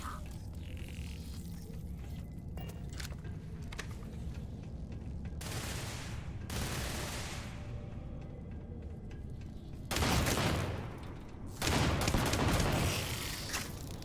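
Suppressed gunfire in Starfield, several short bursts of sharp, muffled shots over a low game background, the last two bursts louder and longer, with no talking.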